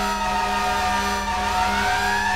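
A GTA V fire truck siren wails continuously over a steady engine rumble, loud and close, with the tone slowly rising toward the end.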